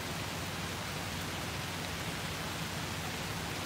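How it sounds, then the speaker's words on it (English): Heavy rain pours in Gorky Park, Moscow, a steady, dense, loud hiss of downpour holding evenly throughout with no voices. "The rain is huge"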